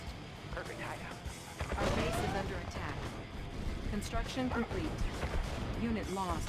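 Gunfire and explosions crackle through a battle in the Red Alert 2 strategy game at moderate level. Brief bright tones are mixed in, and someone talks excitedly over the whole stretch.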